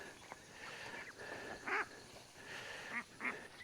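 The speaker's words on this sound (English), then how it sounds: "That whistling duck's down there." A whistling duck calls from a farmyard pasture among turkeys and pigs, giving a few short, faint whistled notes at a distance over quiet outdoor background.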